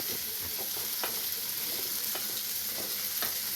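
Oil sizzles steadily in a pan while dried fish chutney is cooked, with soft scrapes and taps of stirring over the constant hiss and no talking.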